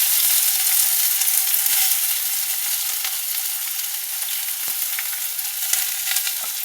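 Sliced onions fry in hot oil with bay leaf, dried red chili and whole cumin, making a loud, steady, crackling sizzle that eases slightly over time, close by and without speech.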